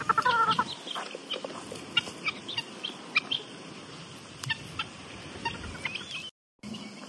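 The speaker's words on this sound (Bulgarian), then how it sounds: "Кокошка, токачка, стой!" Chickens and guinea fowl cluck and chirp in short, scattered bursts, fairly faint and close by against a quiet outdoor background. A brief gap of silence falls near the end.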